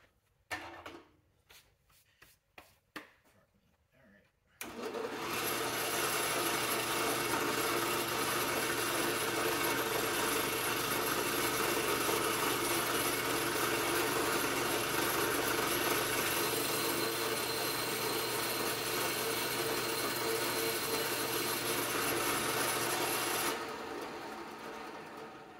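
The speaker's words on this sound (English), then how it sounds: "take your hole saw, your 1 1/4 hole saw" After a few seconds of clicks and handling noises, a power drill with a 1 1/4-inch hole saw whirs steadily and loudly for about twenty seconds while countersinking a hockey puck cab mount, then stops.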